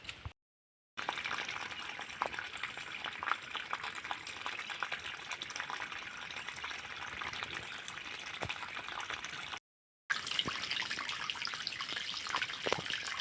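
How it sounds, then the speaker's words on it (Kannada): Tap water runs steadily for a rescued cat to drink, a continuous hissing splash broken by two short silences. The sound is close and fairly soft, with no voices. "ಬೇಕಾದಷ್ಟು ನೀರು ಬಂತು ಕುಡಿ ಈಗ"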